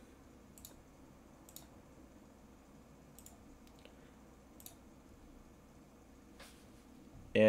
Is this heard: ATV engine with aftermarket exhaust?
no